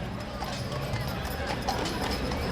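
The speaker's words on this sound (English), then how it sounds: "he's being escorted on this wagon here, the horse-drawn wagon" Horse hooves clip-clop steadily as a horse-drawn wagon moves along an evening holiday parade of lights, heard faintly beneath a commentator's continuous talk.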